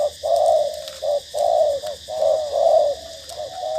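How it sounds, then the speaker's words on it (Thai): A large spotted dove gives a series of deep, round coos in a short repeating phrase, loud and close with brief pauses between calls, and no one talks over it. "เสียงใหญ่กว่าเจ้าโฮอีกนะครับ กุกเดียว อารมณ์บาง ๆ นะครับ"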